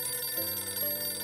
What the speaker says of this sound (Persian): تلفن زنگ میخوره